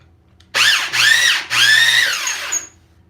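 A crank-handle wire stripping tool working through electrical wire, giving three close, loud whirring squeals that rise and fall in pitch, separated by short pauses.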